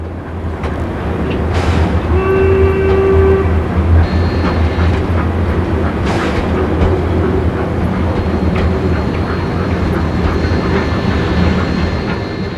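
A steam freight train at Frankton, New Zealand, rumbles loudly and steadily throughout, with brief whining, whistle-like tones rising over the constant roar.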